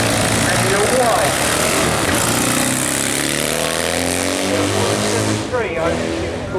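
A Hagen Triumph 750cc motorcycle at a speed trial, engine roaring loud and close as it accelerates, pitch climbing and dropping through several gear changes, with a voice talking over it.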